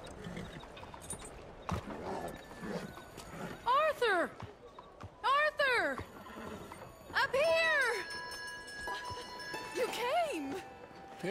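Video game horse in Red Dead Redemption II, with several loud, sweeping whinnies and snorts standing out over steady hoofbeats and background game ambience, while someone talks intermittently.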